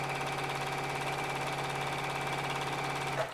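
Juki sewing machine stitching black fabric with orange thread at high speed, a continuous fast mechanical buzz and rattle, close and steady, ending with a small clunk.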